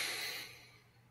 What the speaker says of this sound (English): Okay, breathing in